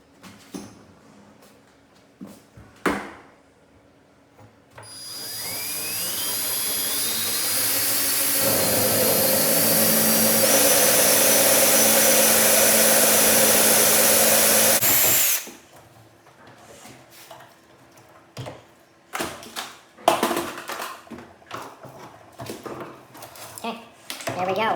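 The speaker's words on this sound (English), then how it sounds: "basically going to drill right through." A power drill with a Craftsman jig bores straight through a French door, whining loudly and steadily for about ten seconds, with quieter knocks and handling sounds before and after.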